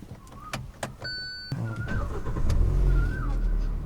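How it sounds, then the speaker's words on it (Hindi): A few soft electronic chimes, then a Hyundai i20 Magna engine cranks up and settles into a low, steady idle rumble close by. "कार को स्टार्ट करते हैं और देखते हैं इसका मतलब इंजन का साउंड"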